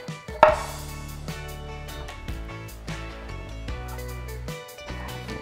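A knife slices through a cauliflower head into thick steaks on a cutting board, with a sharp crunching cut near the start followed by several softer chops and taps, close and alone.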